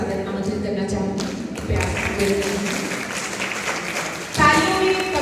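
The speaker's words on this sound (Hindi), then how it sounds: "तालियों में कमी नहीं होनी चाहिए।" An audience in a college auditorium applauds with steady, dense clapping, overlapped by someone speaking over a microphone.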